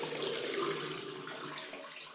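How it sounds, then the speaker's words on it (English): Water rushes steadily from a tap opened on a Megaflo unvented hot water cylinder, a close, continuous hissing flow with no talk. "Turn the water off. Open this tap."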